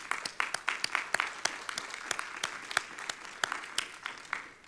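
A church congregation claps together at a Sunday morning worship service, a dense run of hand claps that carries on steadily for several seconds without any voices.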